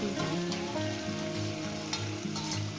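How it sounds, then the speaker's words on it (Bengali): Leftover spice rinse water goes into a pan of fried chicken and spices, setting off a loud, continuous close-up sizzle with stirring scrapes throughout. "মশলার বাকি ধোয়া জলটা আমি দিয়ে দেবো"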